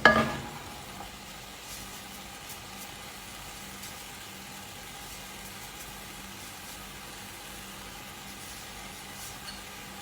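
Rice coats in olive oil in a pot for a grape-leaf risotto, giving a soft, continuous low sizzle and faint crackle throughout, quiet and steady with no talking.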